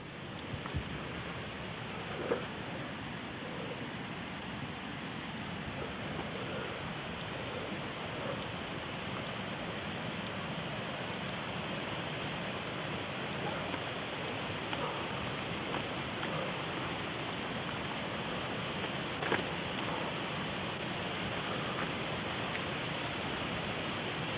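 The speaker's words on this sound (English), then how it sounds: "And this is the waterfall at Ridley" Continuous broad rushing of falling water, steady and fairly close, with an occasional faint knock but no voices.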